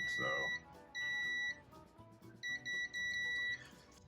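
A multimeter on continuity mode sounds steady, high-pitched beeps as its probes touch the outside casing of a camera's USB 3.0 port, several short and longer tones starting and stopping close by under a low background hum.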